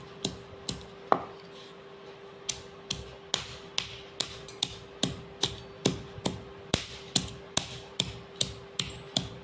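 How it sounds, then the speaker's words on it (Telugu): Fresh ginger pounded to a coarse paste for a cauliflower and egg fry, about twenty steady, evenly spaced close-up thuds with a faint constant hum underneath and no talking. "ఈ అల్లాన్ని దంచి"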